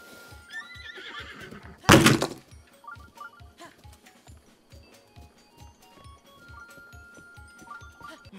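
A horse in The Legend of Zelda: Breath of the Wild gives a loud whinny near the start, over a steady, regular clip-clop of hooves that runs through the whole stretch alongside a burst of heavy impact noise.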